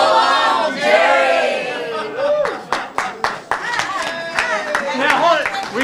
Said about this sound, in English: everybody's going to do a big cheer with your arm up